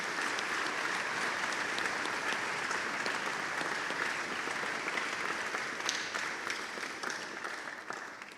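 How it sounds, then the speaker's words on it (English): A concert audience at a county school bands concert applauds school principals with sustained, even clapping that holds steady for several seconds before tapering slightly at the end. "Please give them a round of applause."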